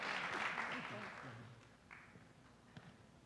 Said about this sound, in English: can we please just give a big round of applause to the best chamber president in the planet